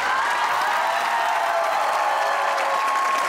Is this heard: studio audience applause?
yes